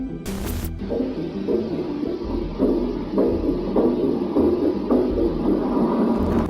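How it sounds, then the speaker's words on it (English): A slow, muffled heartbeat thumps repeatedly under a constant low hum, with a brief burst of noise at the start. "What you've just heard are said to be the dying heartbeats of a Russian cosmonaut."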